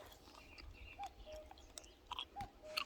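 Freshly picked ripe mulberries are chewed outdoors with soft, irregular wet bites and small squelching crunches, close and faint against quiet background ambience.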